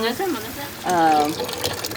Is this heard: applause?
no